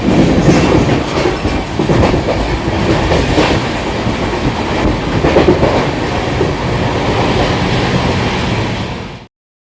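The Howrah Barmer Express runs on rails with a loud, steady clickety-clack and a continuous rumble from the moving cars. The sound stays close and sustained with no voices, then stops abruptly near the end.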